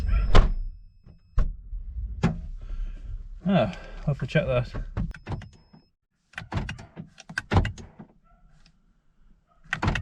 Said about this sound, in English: Shut that door and open again, please.